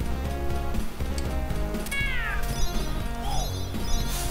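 In the Moonwalker video game, a cat meows in two short sweeping cries over loud, busy game music and sound effects.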